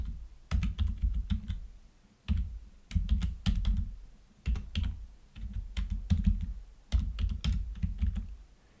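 Close, clattering keystrokes on a computer keyboard in quick bursts separated by short pauses, with no one talking.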